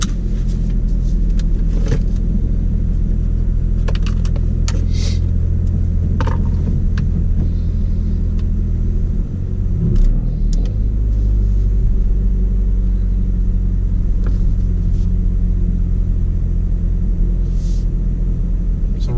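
Interior of a 2016 Ford Focus RS driving after a Steeda rear motor mount install: a steady, loud low engine and road rumble with slight swells, heard alone with no talking.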